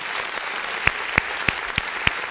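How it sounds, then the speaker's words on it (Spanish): Applause in a broadcast tribute to women, heard as a steady hiss of clapping with five sharp, regular claps standing out close by, at roughly three per second. "Aplauso, aplauso para ese ser tan especial, las mujeres."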